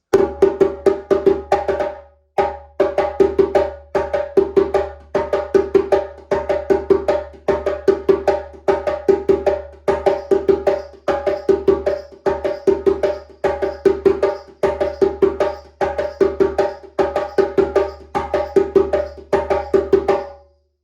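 Djembe played in a steady looping Soboninkon rhythm with a hidden shuffle feel, sharp slaps mixed with deep bass tones, close and loud with brief pauses between phrases.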